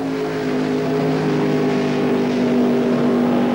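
Ray Beadle's Blue Max funny car makes a single drag racing run at the 1977 NHRA Gatornationals. Its engine gives a loud, sustained, steady roar for several seconds with strong harmonic tones and no pauses.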